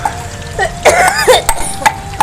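A single short cough from someone with a cold up close, with faint ticking and clinking kitchen sounds around it while cooking on a traditional stove.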